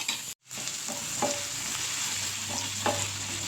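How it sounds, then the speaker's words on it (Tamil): Onion, green chilli and ginger-garlic paste sautéing in a pan: a steady close sizzle with occasional scraping stirs, after a brief cut near the start. "பச்சை மிளகாய் வெங்காயத்தை ஆட் பண்ணிக்கலாம் நம்ம எடுத்து வச்சுருக்க இஞ்சி பூண்டு பேஸ்ட் ஆட் பண்ணிக்கலாம் இப்போ இது நல்லா வணக்கிக்கலாம்"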